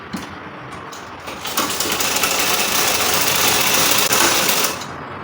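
A sewing machine runs steadily and loud, stitching a shoulder seam on a triangular bubu top and then back-stitching, with a brief start before a continuous whirring run that stops near the end.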